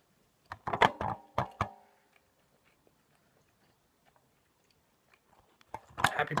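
A piece of gum being chewed close to the mic: a quick run of moist, crunchy bites, a long quiet pause, then another burst of chewing at the end.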